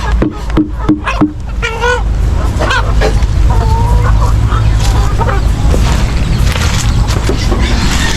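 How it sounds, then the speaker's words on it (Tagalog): A flock of chickens clucks and squawks close by, with a few honking, goose-like calls mixed in, over a busy outdoor background. "tayo magpapakain muna nitong mga manok"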